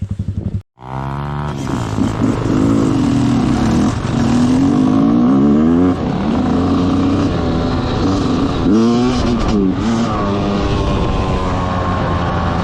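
A loud enduro motorcycle engine, just brought back to life after breaking down, runs close by with continuous rising and falling revs and a strong harmonic drone throughout.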